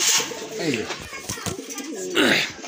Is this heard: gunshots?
no